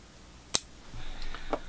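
A single sharp snip of pruning shears cuts a bonsai branch on a cold winter day, one crisp close click followed by faint rustling of the tree.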